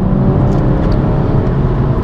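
Loud, steady engine rumble from inside a BMW M135i, droning low and continuous as it gains speed on a road in northern Scotland.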